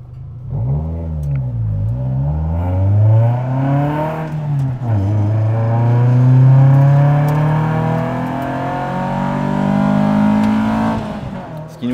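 A Lotus Elise sports car on a track day revs up and shifts through gears, its engine note climbing, dropping and climbing again in a loud, close, sustained drone.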